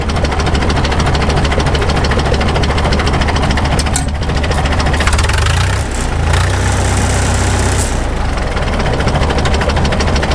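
Caterpillar D2 crawler tractor engine idling low and slow, a loud close rhythmic diesel chug that holds steady throughout, with a brief shift in tone partway through and no talk.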